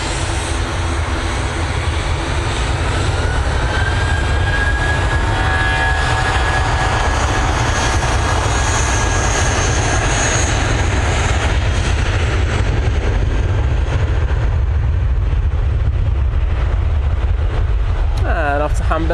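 A Eurowings airliner departs Manchester Airport, its engines giving a steady, loud broadband roar with a thin whine running through the middle of the pass, while a voice speaks over it at times.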